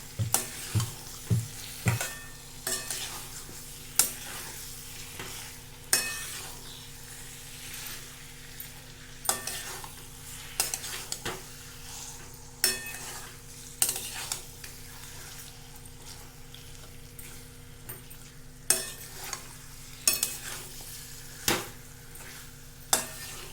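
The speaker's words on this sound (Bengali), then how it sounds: "এরপর মাংসগুলো দিয়ে নেড়ে নেব। মশলাটা মাখিয়ে নিচ্ছি মাংসের মধ্যে।" Chicken pieces being stirred through masala in a pan for chicken kosha: faint, irregular scrapes and clacks of a spoon against the pan over a soft sizzle, with a steady hum underneath.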